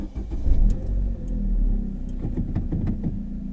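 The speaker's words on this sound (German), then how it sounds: "Motor starten und dann geht es schon direkt los." Used passenger car engine cranks and catches, a low rumbling turnover that swells and settles into a steady idle, with a few light clicks and clunks over it, fairly close and moderately loud.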